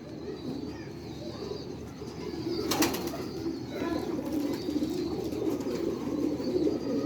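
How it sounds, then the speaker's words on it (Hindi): Sialkoti Jaunsra Chuha pigeons coo steadily in low, throaty murmurs, several birds overlapping continuously, with a brief flutter of wings partway through. "जौंसरा चूहा कबूतर है।"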